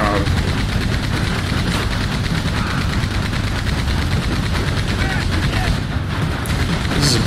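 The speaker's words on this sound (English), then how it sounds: "Use the machine gun. Cut him down!" Sustained machine gun fire in Red Dead Online, a dense rapid rattle of shots running unbroken and loud over a rumbling battle din, with a voice talking faintly underneath.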